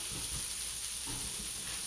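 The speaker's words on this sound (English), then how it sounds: "Here's the sizzle. Hear the sizzle." Pork chops sizzle in a hot pan during home cooking for a Sunday dinner, a faint steady frying hiss with no talk over it.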